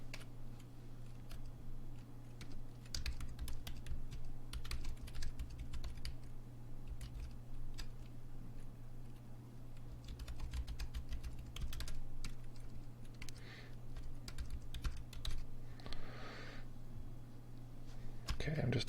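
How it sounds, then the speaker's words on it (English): Fingers type steadily on a computer keyboard during an online meditation Q&A session, with quick irregular clicks and taps over a constant low hum. "I'm just typing what we're doing in the chat"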